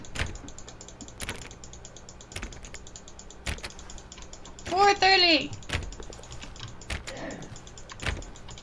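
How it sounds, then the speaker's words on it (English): Sharp mouse clicks repeat in an uneven series while clicking a door in the game The Stanley Parable, close and crisp, with a short burst of speech in the middle. "Okay, we're clicking the door."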